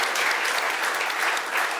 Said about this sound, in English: We should really give a very big round of applause for Lina.